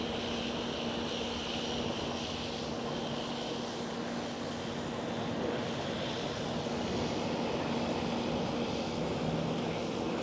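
An airliner takes off from runway 18 left at Amsterdam Schiphol, its engines a steady, loud roar that holds broadband and unbroken for the whole span with no voices over it.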